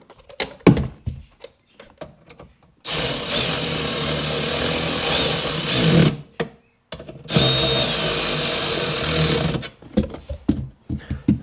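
A power drill backs out bolts on a Seadoo RXDI trim module in a cramped spot, running in two loud sustained bursts of about three seconds each, with quieter clicks and handling knocks before, between and after.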